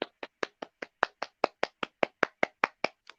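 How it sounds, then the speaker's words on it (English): One person clapping hands in a steady, even rhythm of about five claps per second, sharp and close with no talk over it. "That was me applauding in the background."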